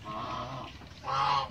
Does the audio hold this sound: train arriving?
no